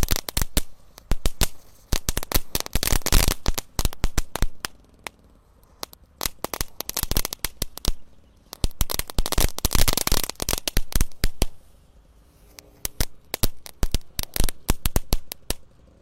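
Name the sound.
colorful dino egg crackling firecrackers, whole pack lit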